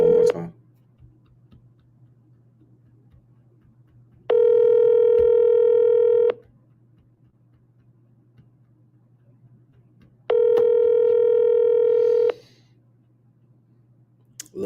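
Telephone dialing out to a seller's number, with two long, steady ringback tones separated by quiet gaps over a faint low hum, clicks at the start and end.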